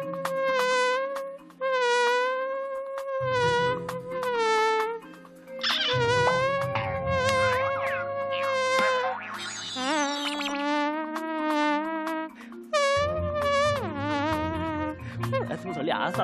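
A man imitates mosquito and housefly buzzing with his voice on a talent show stage, a series of long whining, wavering hums in several bursts, loud and close, with short breaks between.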